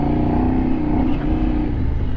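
Kove 800X adventure motorcycle engine droning steadily while riding, a continuous loud mechanical hum with faint revving swells and wind, no voices.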